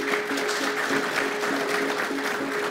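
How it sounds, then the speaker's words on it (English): An audience in a prison program gives a round of applause, a steady, even wash of many hands clapping together throughout. "Let's give a round of applause for Mr. D. Williams."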